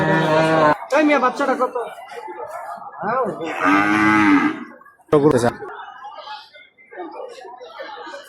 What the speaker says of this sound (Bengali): হাটে গরু আসতেছে